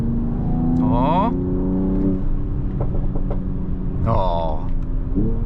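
A 2022 Mercedes-AMG GT53 engine revs and growls loudly up close, rising pitch sweeping upward twice with a steady rumble beneath.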